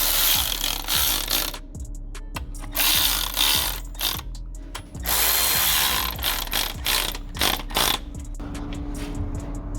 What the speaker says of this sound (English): Basically just tightened up with the ratchet, put it on with the normal electric ratchet first.